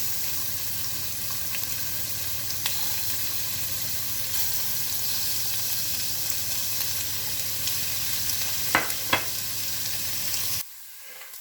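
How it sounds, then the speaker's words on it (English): Smoked hog jowls frying and rendering fat over medium-low heat, a steady even sizzle and crackle close by, with two quick utensil clicks late before the sound cuts off abruptly. "On medium-low heat, I have rendered a lot of the extra fat from the smoked hog jowls."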